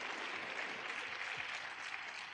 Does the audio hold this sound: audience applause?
yes